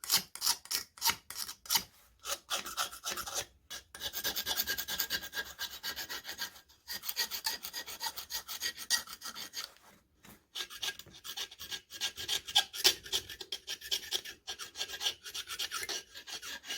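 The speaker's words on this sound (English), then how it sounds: "We'll get all that paint off of these mating surfaces" Paint being scraped off the mating surfaces of an International Type M 3 hp engine, a close, loud rasping scrape repeated in quick strokes with short pauses.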